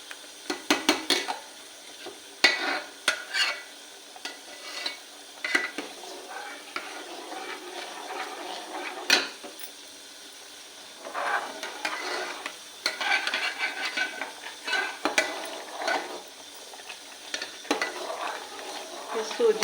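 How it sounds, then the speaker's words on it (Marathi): Semolina cooking in water in a pot, stirred with a spoon, giving soft scraping and clinking strokes in irregular bursts with brief quiet gaps, close and moderately loud, with no talking. "सोजी चांगली शिजवून घ्यायची पाण्यात."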